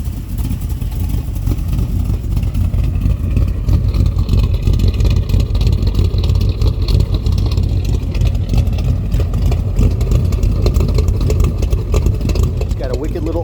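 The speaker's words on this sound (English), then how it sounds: "It's got a wicked little idle, nice little bump from that cam." A red 1970 Chevrolet El Camino with a 350 V8, aggressive cam, headers and 2.5-inch exhaust idles steadily with a loud, continuous lopey rumble throughout, with some faint talk mixed in.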